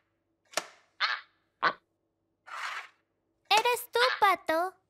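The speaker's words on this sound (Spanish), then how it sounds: "¿Eres tú, Pato?" A string of short bright bursts, several spaced apart and then three or four quick ones in a row, sounding like duck-like quacks, close and clear.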